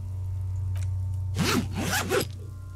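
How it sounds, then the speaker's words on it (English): In the video game Disco Elysium, the zipper of an orange jacket is pulled down in a few quick, loud, close rasping strokes over a low steady hum. "the lieutenant pulls down the zipper of his orange jacket"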